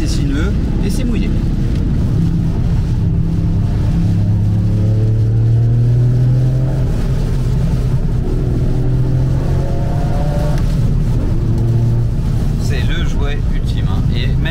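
A Toyota Yaris GR Track Pack fitted with an Akrapovic exhaust drives a small, wet, winding road. The engine drones and rises and falls loudly under gear changes, with hiss from the wet surface and wind, while people talk inside the car.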